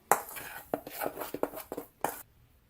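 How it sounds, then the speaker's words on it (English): Dry ingredients for gluten-free banana bread being stirred in a bowl, a series of close, quick scraping taps and strokes of the utensil against the bowl, then quiet. "I'm now going to stir these to combine."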